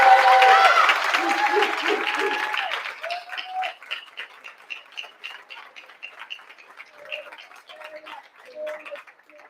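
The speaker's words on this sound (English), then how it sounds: "One more round of applause" Applause from families and guests at a school district special board meeting honoring authors starts loud and then thins into sparse, scattered claps, with voices talking over it early on.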